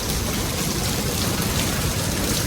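Heavy rain pours outside as a dense, unbroken roar of drops, loud and steady with no voices.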